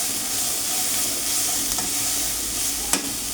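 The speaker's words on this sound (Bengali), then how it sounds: "একদম লো ফ্লেমে ভাজতে হবে শাকটা" Mulo shak (radish greens) fry on a low flame with a soft, even sizzle, ending in one brief stirring clack.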